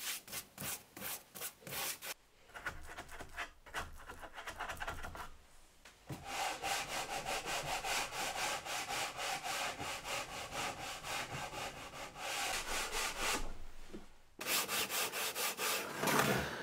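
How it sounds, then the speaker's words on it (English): KB wax being buffed onto a dyed wooden shelf with a cloth, brisk back-and-forth rubbing strokes in close, repeated bursts separated by short pauses. "So I'm just going to get some of this put on and then buffed off."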